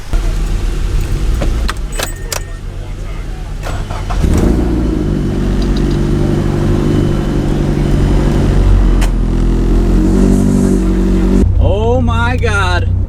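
A 2.5-litre turbocharged Mazda Miata NC fitted with a Flyin' Miata turbo kit pulls hard up a steep mountain-road hill, its engine droning loud and steady, rising in pitch as it accelerates, with voices briefly audible over it near the end.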